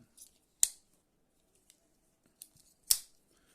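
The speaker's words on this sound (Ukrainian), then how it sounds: "Ножниці." The small scissors of a Victorinox Compact Swiss Army knife snip twice, close to the listener, with sharp crisp clicks about two seconds apart. Fainter metallic ticks from the blades opening come between the cuts.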